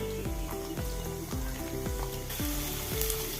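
Chopped garlic frying in hot oil in a pan while making vegetable fried rice, a steady close sizzle with periodic scraping stirs throughout.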